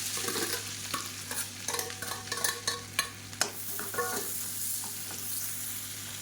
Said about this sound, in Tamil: அதே எண்ணெயில் கொஞ்சமாக சீரகம் சேர்த்துக்கலாம் சீரகம் பொரிய ஆரம்பிக்கவும்